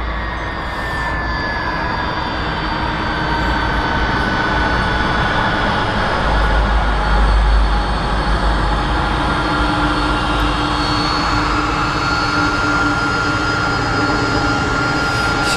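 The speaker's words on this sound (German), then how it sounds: "Mit einem A300 kommen die hierher." DHL Airbus A300 freighter jet passing overhead at Frankfurt Airport, a loud, sustained engine roar with a rising whine that swells and holds for many seconds, close and dominant.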